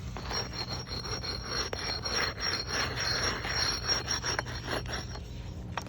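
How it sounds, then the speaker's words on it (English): Steady abrasive rubbing of a concrete sanding block against concrete, continuous rasping strokes close up, with no voices. "I really like this concrete sanding block."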